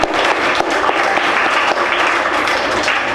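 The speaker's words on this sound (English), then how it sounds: "Clap for her" Students in a school classroom applaud together, a steady loud burst of clapping filling the room from start to finish without pause.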